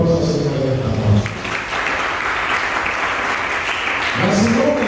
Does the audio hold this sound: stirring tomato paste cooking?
no